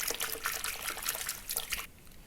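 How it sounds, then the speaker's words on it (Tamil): Sodium hydroxide solution trickles steadily into a container while homemade fabric whitener is being mixed; the thin close pour runs for about two seconds, then cuts off into quiet. "கொஞ்சமாக சேர்த்துட்டு நல்லா அதை மிக்ஸ் பண்ணிடுங்க."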